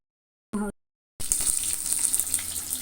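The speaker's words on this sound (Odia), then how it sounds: "ଏବେ ମୁଁ ମାଛ ଭାଜୁଛି।" Fish pieces rubbed with salt and turmeric frying in a pan give a steady, bright, hissing sizzle that starts abruptly after a short blip and a moment of silence, then carries on close and even.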